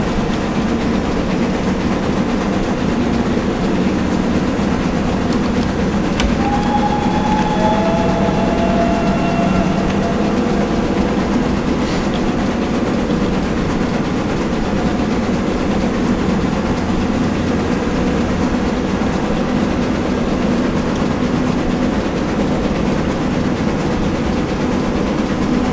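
Steady, loud roar of a train running through a tunnel, with a continuous low rumble, rattling and faint squeals throughout and no voices.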